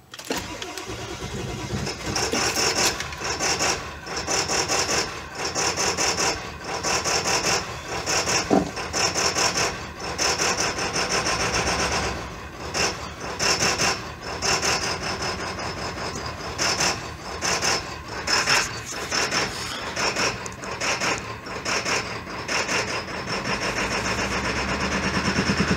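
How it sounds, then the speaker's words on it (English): A 7.3 PowerStroke diesel engine in a 2000 Ford F-450 runs rough and loud just after a cold start, with a rapid, uneven knocking clatter and pulsing surges. "Roll down the window a bit so you guys can hear the engine a bit more."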